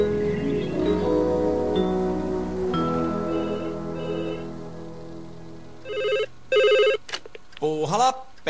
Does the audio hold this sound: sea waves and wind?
no